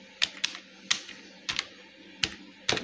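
Someone types the phrase business card design on a keyboard: a few clear, close clicks land in small bursts with short gaps between them, with no voices.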